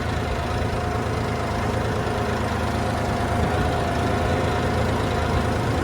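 Steady low engine drone from a tractor running at about a thousand rpm through a waterlogged, puddled field, heard close up and loud throughout without pauses or speech.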